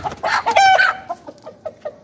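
A rooster calls out loudly, then a series of short, rhythmic clucks follows, close to the listener.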